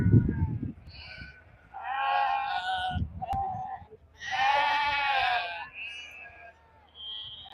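Young Valais Blacknose ewe lambs bleat in a show judging ring, with several loud, wavering bleats overlapping one another in a lively, noisy chorus.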